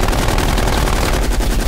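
Heavy automatic gun firing in Call of Duty Cold War, a dense continuous burst of loud rapid shots that fills the whole moment at close range, with no voices over it.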